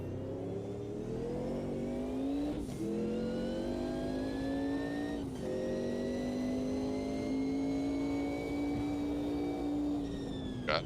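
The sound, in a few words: race car engine in racing video game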